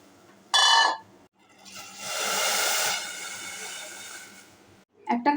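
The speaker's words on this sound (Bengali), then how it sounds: "আমি প্রেশার কুকারে সিদ্ধ করে নিচ্ছি" A pressure cooker boiling soaked chickpeas for chole lets out a steady, moderately loud hiss of steam for about two seconds, framed by short sharper bursts before and after.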